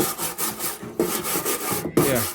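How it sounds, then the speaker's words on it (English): Bench grinder stripping rust and green paint off an old Dietz No. 32 storm-proof lantern, giving a steady abrasive grinding rasp with two sharp louder bursts as the metal is pressed to the wheel, close and loud. "the bench grinder turns all this rust dust into particulate"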